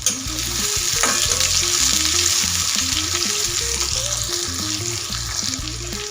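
Sliced onions frying in oil make a loud, steady sizzle close by, while a spatula keeps stirring them with repeated soft scrapes and taps against the pan.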